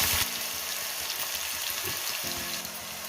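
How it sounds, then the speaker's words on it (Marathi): Potatoes frying in hot oil with garlic and mustard seeds, a dense steady sizzle close by with faint stirring movements underneath and no talking. "आपण अगोदर बटाटा परतून घेऊया"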